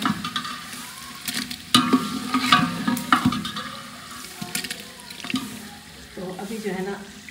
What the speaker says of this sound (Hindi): तो गोश्त हमारा तकरीबन माशाल्लाह से ये देखिए फ्राई हो चुका है